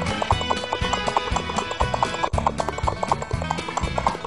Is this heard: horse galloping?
yes